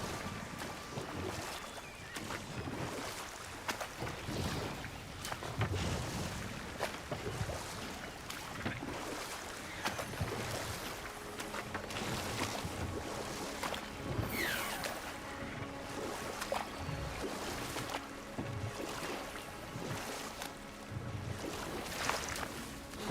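Steady broadband rushing of a waterfall in the God of War Ragnarök game, heard near the Elven Sanctum as a continuous wash of water noise throughout with scattered lighter game sounds on top.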